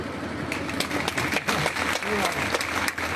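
Crowd applause at a chief minister's election rally in Chakmoh, Barsar, steady clapping from a large outdoor audience throughout, with a voice heard over it.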